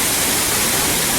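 Steady, loud roar of the Harvalem waterfall in North Goa, a continuous broadband wash of falling water that never lets up, with no talking over it.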